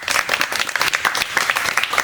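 A small group claps in a quick, uneven burst of applause, close and fairly loud, with individual hand claps distinct throughout and no speech over it.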